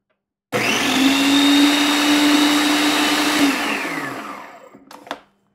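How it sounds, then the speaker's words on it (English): A blender whirs loudly and steadily as it purees a tofu mixture, running about four seconds before spinning down, followed by a few light clicks of the lid. "Snap my lid on and I'm just going to blend it."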